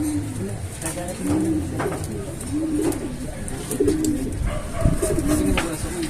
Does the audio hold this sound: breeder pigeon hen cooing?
yes